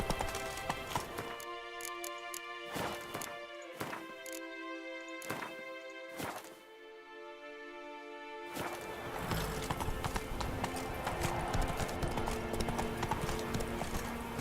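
Roach, a horse in The Witcher 3, trotting and galloping with rhythmic clip-clop hoofbeats over a game music bed, which swells into a loud, dense orchestral passage partway through.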